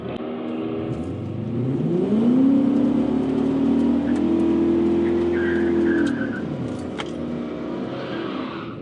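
Infiniti Q45 with an aftermarket intake and header doing a burnout, engine revving hard and holding a high steady whine for several seconds with tyre squeal, loud and close, then dropping back.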